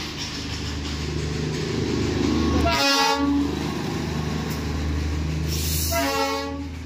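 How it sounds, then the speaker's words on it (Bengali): The Darjeeling toy train passes close by, sounding two loud horn toots several seconds apart over a steady engine and wheel rumble. "মোমো খেতে খেতে কিন্তু পাশ দিয়ে চলে এলো আমার কিন্তু টয় ট্রেন, দেখতেই পেলে"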